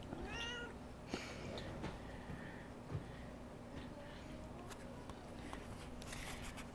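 A cat meows indoors, several short, faint meows early on followed by soft rustling and small handling noises in a quiet room.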